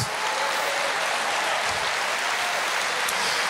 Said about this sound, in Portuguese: Aplauda, dê um grito de júbilo, glorifique o nome do Senhor.